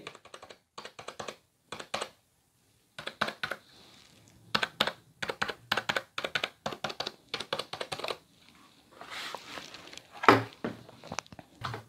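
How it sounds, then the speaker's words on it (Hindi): HP Wireless Keyboard 300 keys pressed in quick bursts of clicky, crisp taps near the mic, with short pauses between runs and no talk. "मैं अभी मैं इसको ऊपर करके आपको आवाज़ सुना देता हूँ क्लिक कैसे इसके जो की जो प्रेसेस हैं वो कैसी आवाज़ आती है"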